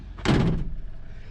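A Hyundai truck's swinging door shuts with a single close, heavy thunk, followed by a faint room tail.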